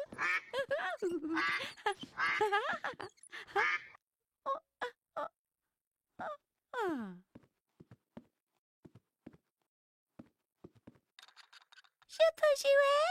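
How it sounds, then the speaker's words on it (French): A plastic toy duck pulled along on a string gives short, nasal quacks in a Caillou cartoon, heard in scattered bursts between narration and children's voices. "tirant son canard en plastique par une ficelle"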